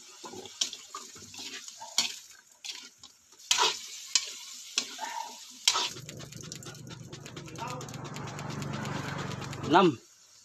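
Potatoes and carrots drop into a simmering pot of chicken curry with coconut milk, bay leaves already in, giving a brief clatter and then a steady sizzle and bubbling with spoon stirring, while a person talks over it.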